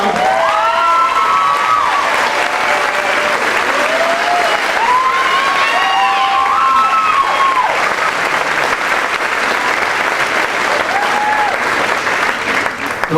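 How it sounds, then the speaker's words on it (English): Steady, dense audience applause with cheering fills an assembly hall at a university general assembly, loud and continuous throughout, with whoops and shouts rising above the clapping. "Let's give a round of applause."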